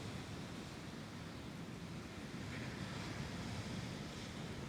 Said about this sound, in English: The sound of the waves as they lap upon the shoreline.